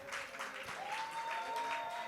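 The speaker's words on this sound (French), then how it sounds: "je vous demande de faire un maximum de bruit pour Chloé et moi et Nerika" An audience at a music contest final in a café applauds, a continuous even patter of clapping hands that stays faint and distant, with no voices on top.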